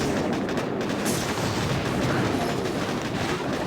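A Boom Beach warship artillery barrage pounds continuously in a dense, loud wall of overlapping blasts and rumbling impacts, with no gaps or pauses between them.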